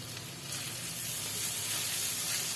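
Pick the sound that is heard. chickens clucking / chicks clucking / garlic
garlic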